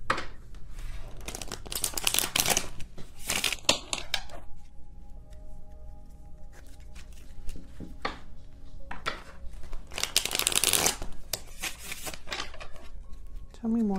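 A small tarot card deck is shuffled in irregular bursts of riffling, rubbing card noise, close by, with quieter gaps between the flurries.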